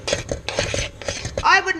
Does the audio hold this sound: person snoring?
no